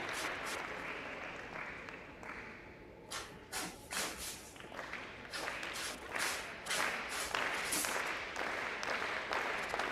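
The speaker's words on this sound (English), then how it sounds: "Crowd really getting into this now." A crowd at a padel semifinal on centre court claps and cheers in uneven bursts of applause that swell toward the end, heard moderately close with some shuffling and thuds.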